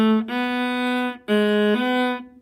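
A viola in half position plays a measure of sustained bowed notes, with rich harmonics and a clear tone, close and solo with no talking; there are two phrases, separated by a brief break.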